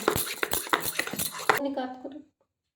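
A spoon mixes lentil batter with a pinch of baking soda in a bowl for dahi bara, making quick, close clinks and scrapes for about two seconds before stopping. No one speaks.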